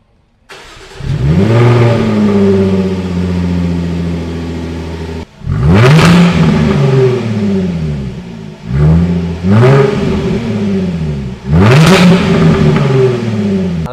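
A Jaguar F-Type V6 S engine revs hard several times with its exhaust valves open, each loud rising roar falling back to idle, with short pauses between bursts.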